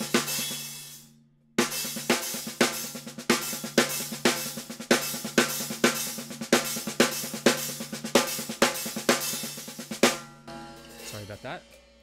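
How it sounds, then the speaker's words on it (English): A drum fill of single strokes followed by a paradiddle-diddle on the snare, with a rapid, steady run of close, punchy hits that stops abruptly, followed by a brief voice. "put together two groupings of four single strokes and then a paradiddle-diddle sounds like this"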